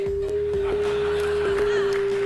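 A single continuous electronic sine tone from a head-mounted colour sensor, sounding the yellowish colour of a dirty sock, holds steady for about two seconds over faint rumbling background noise and soft clicks, with no talking.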